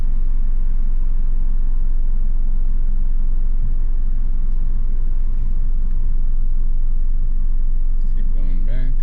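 A car reversing during a Florida driving test, heard from inside the cabin as a steady, loud low engine rumble throughout, with a few brief chirping sounds near the end.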